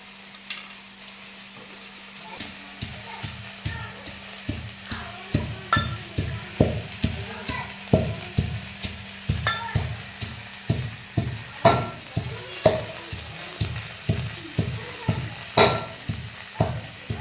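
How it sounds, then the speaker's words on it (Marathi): Rhythmic stirring and scraping in a pan over a steady sizzle of vegetables sautéing in a little oil, for a cluster bean dish, repeated strokes roughly every half second, close and clear with no talking. "थोडं तेल टाकून परतायचे आहे"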